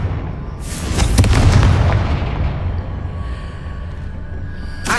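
A heavy, booming blast from a Confringo spell rings out in Hogwarts Legacy, then a long rumbling tail slowly fades, and a second sharp crack arrives at the very end.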